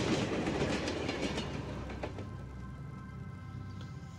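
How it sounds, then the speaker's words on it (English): A train rolling past on a dark, empty street at night, a loud rumbling clatter that slowly fades as it moves away, with no voices over it. "Oh, train."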